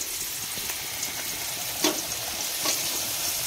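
Fried rice frying in a pan, with a steady soft sizzle and a few faint stirring scrapes close by, no voices.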